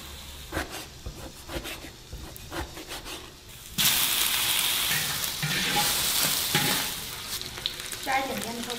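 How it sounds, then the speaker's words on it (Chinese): Cabbage stir-fried in a big wok in a rural home kitchen, starting with a sudden loud sizzle that stays steady and close, with scraping and stirring running through it. "现在大锅里面炒一个白菜"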